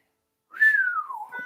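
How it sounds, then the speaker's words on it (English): A woman whistles a single close, clear note that slides gradually downward in pitch, ending with a brief lower wavering tone, alone against silence. "Shrugging, she looks away and whistles."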